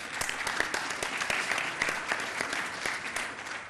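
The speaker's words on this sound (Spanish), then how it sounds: "Un aplauso para él también," Audience applause for a speaker at a panel on open parliament, transparency and accountability, a steady dense clapping from a sizeable crowd, loud and sustained throughout.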